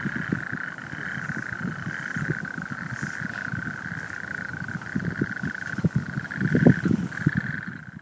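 A dense chorus of toads at Rainham Marshes calls steadily throughout in the evening, a continuous trilling buzz layered with pulsing croaks from many animals, some near and some farther off.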